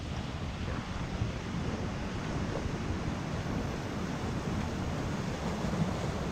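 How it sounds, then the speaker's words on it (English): Small ocean waves splash and wash on the shore at sunrise near Durban, South Africa, a steady, even hiss of surf with light wind noise and no distinct break standing out. "now all the small waves come"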